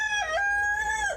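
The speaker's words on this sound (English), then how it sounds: "we have 2 hens in there that won't come out" A rooster crows once in a long, clear cock-a-doodle-doo, close and loud at an animal sanctuary that keeps hens.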